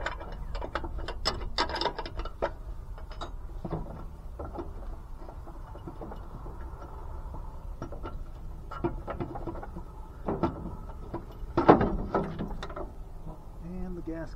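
A ratchet clicks in quick bursts as it backs out a bolt on the magneto of a Caterpillar D4 7U pony motor, with some speech and handling noise mixed in.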